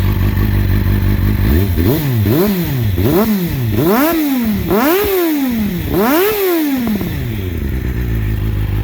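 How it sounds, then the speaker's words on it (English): A 2003 Triumph Speed Four engine with a Two Brothers Racing exhaust is revved six or seven times in quick succession, each blip rising sharply and falling back, loud and close over a rumbling idle. "let me do a little rev up here for you guys"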